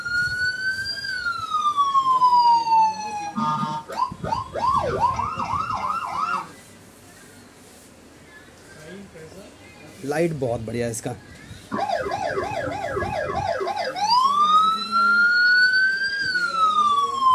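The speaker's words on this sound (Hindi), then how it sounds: "पुलिस की सायरन भी है और आवाज़ की क्वालिटी इसकी देखो बहुत बढ़िया है।" A toy police siren on a toy battery car cycles through rising wails and rapid yelping tones, loud and close, with a brief quiet gap and someone speaking at one point.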